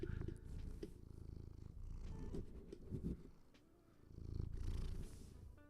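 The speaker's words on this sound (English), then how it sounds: "You can purr. Yeah, purr into the microphone for everybody." A cat purrs right into a microphone in a soft, close, rhythmic rumble that swells and fades with each breath, with small rustles and no talking.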